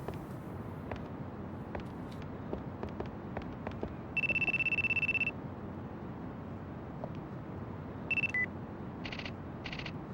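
A phone in the video game Yakuza 2 rings with a sustained electronic tone, then returns as shorter chirping bursts, over steady in-game background noise and footfalls.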